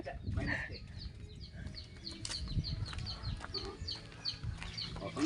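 A mother hen clucking repeatedly nearby amid other chicken calls and farmyard bustle on a farm in Tubay, Agusan, with short bursts of chatter in the background.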